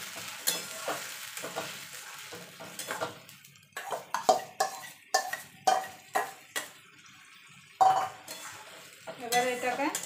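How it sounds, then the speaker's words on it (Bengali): Ground ridge gourd paste goes into fried onions in a pan and is stirred, giving a series of distinct scraping and clattering spoon strokes over a soft sizzle, with gaps of quiet between them. "এবার যে ঝিঙেটা বেটে রেখেছিলাম সেটা দিয়ে দেবো।"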